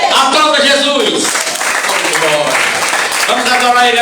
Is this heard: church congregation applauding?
yes